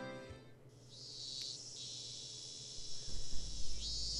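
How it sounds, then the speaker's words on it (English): Steady high buzzing drone of cicadas in the visual novel game Higurashi When They Cry, continuous and fairly quiet, with a low rumble building near the end and no speech. "It's the cicadas again. The cicadas are creepy."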